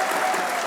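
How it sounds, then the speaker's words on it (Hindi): Steady applause from a live audience during a cricket discussion show, a dense continuous wash of many hands clapping at even loudness throughout the short stretch, with no voices over it. "सब मानते हैं, तालियां बजाइए।"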